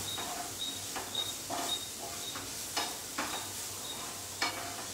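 Onions with salt cooking in a pan on a home stove, giving a steady soft sizzle with light stirring and occasional scrapes, moderately close and without talk.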